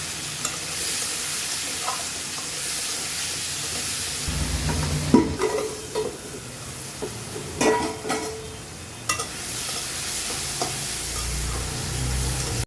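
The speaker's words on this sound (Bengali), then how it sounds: "এখন আলু আর পেঁয়াজটাও দিয়ে দিব।" Potatoes and onions fry in hot oil tempered with cumin seeds, oil left from frying fish, giving a steady close sizzle broken by repeated scraping stirs and clatters of the spoon.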